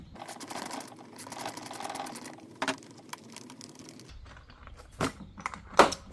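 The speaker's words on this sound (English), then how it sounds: "Now in here there is a 14mm bolt, so we're going to go ahead and remove that now." A ratchet or wrench removes a 14mm bolt from a Land Cruiser 100 front seat, giving a steady run of fast clicking, then scattered sharper metallic clicks and knocks close by.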